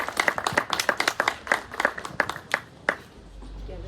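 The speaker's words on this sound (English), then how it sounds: "we can give them another clap" Audience at a coaching graduation ceremony claps in a brief scattered burst, individual hand claps distinct and fairly close, thinning out and stopping near the end.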